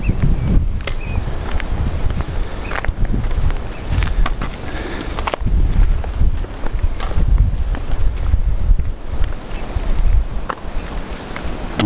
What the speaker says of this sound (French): il y aura un petit peu plus de vent. J'espère que ce sera pas trop gênant sur la vidéo